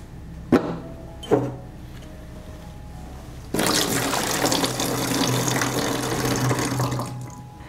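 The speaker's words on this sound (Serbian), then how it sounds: "200 ml mleka sipat ću u flašu od 2 litre." Milk is poured into a 2-litre bottle in a steady, rushing liquid stream that starts partway through, preceded by two brief clicks or knocks.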